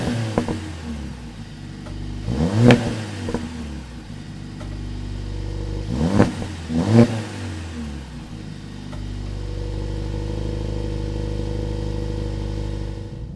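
A Mercedes-AMG A 45 S engine revs hard twice, rising and falling with a loud exhaust roar, then settles into a deep, steady burbling idle.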